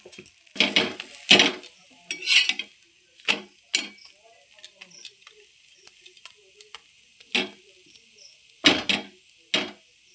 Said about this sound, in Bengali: এই দেখুন, আমি পরোটাটা বাড়ি দিয়ে দিচ্ছি